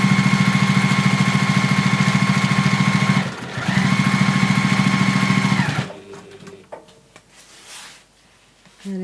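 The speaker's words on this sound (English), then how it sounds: "And then you're going to go and sew all the way down here." Sewing machine stitching a seam, a fast steady mechanical whir that runs for about six seconds with a brief pause midway, then stops, followed by faint handling noises and quiet near the end.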